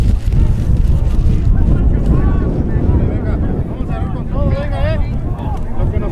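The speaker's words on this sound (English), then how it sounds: "And the wind did pick up a bit." Strong outdoor wind buffets the microphone at a soccer match, a loud, continuous low roar that rises and falls, with a commentator's voice audible beneath it.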